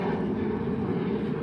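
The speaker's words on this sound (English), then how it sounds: "Airplanes going by" Airplanes roar overhead outdoors at a car show in Columbus, Ohio, a loud, steady broadband engine rumble that fills the moment without speech.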